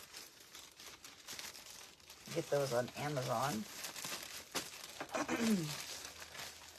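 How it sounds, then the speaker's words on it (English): Clear plastic bags crinkle and rustle in bursts while an item is being packed for shipping, with someone talking over the handling noise. "So I put everything in clear plastic bags first."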